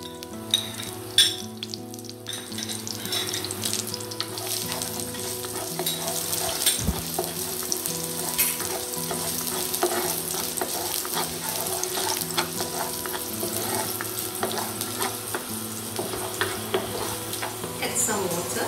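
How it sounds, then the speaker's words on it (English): Garlic fries in hot oil in a pan, a steady close sizzle with occasional stirring scrapes and faint background tones running throughout. "fry the garlic."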